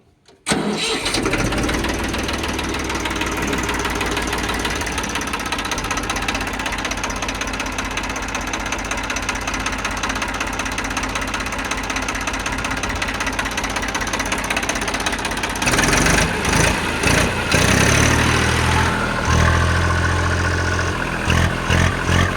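An Eicher 380 tractor engine cranks and catches, then settles into a steady chugging idle that runs on, with a rougher shift near the end.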